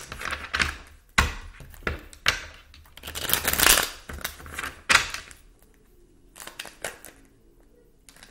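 A deck of tarot cards is shuffled and handled, making a series of sharp riffling bursts and slaps with short pauses between them, close and fairly loud, with no talking.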